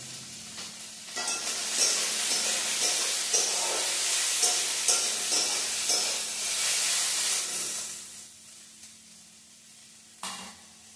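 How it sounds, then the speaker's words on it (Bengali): Hot oil sizzling in a pan while onions and mushrooms fry for a mushroom curry, a steady bright hiss with stirring scrapes that fades after eight seconds before a brief final burst. "ভিডিওটা লং করার জন্য দিলাম তেল দিন"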